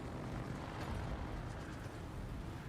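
A propeller plane flying in a naval combat video game produces a steady, loud, rumbling engine drone that stays constant and unbroken throughout.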